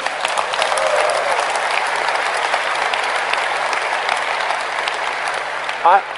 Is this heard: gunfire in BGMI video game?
no